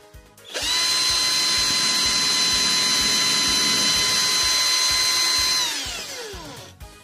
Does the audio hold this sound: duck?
no